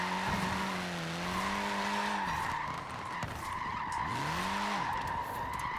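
Tires squeal in long wavering screeches as a car drifts in Forza Horizon 4, several sustained skids over a steady engine drone, loud and alone.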